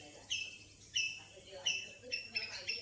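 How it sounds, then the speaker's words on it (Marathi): Birds chirp repeatedly in short, bright bursts about every half second, somewhat distant over a faint low background hum, in a village. "पक्ष्यांचा किलबिलाड आहे"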